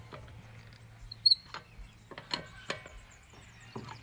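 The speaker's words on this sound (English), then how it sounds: "we then take our wheel brace and in an anti-clockwise direction loosen" Wheel brace loosening wheel nuts anti-clockwise on a car during a flat tyre change, faint scattered metallic clicks and knocks over a low steady hum.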